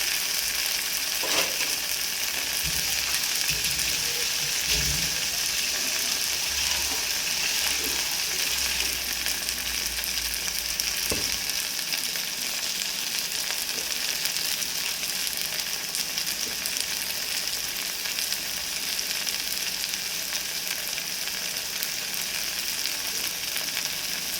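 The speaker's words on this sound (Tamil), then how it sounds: "தக்காளி போட்டுருவோம். தக்காளி நல்லா வதங்கிக்கும்." Tomatoes sautéing with onions in a pan for dal, a steady broadband sizzle running throughout with a few soft stirring knocks early on, no voices.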